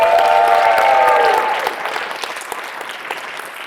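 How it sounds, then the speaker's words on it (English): A debate audience bursts into loud applause with cheering voices, dense and sustained at first, then tapering off into lighter scattered clapping. "I think that was a bigger cheer and a longer applause tail than either of us."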